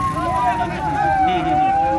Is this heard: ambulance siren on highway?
yes